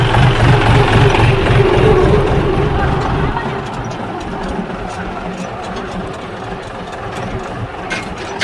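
A tractor engine runs on a farm during fertilizing work, a loud, steady rumble that eases slightly in intensity partway through and keeps going to the end.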